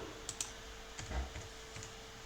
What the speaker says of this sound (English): So I'm gonna just type env,